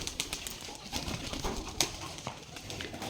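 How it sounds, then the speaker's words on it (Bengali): Soft coos of Giribaz pigeons murmur close by, with light fluttering and scratchy movement around them. "রাগদোবাস কবুতরের মধ্যে বিখ্যাত কবুতর এগুলা"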